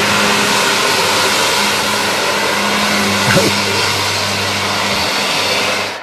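A steady, droning engine hum runs throughout with a constant low rumble, like a bus idling or cruising, with no talking.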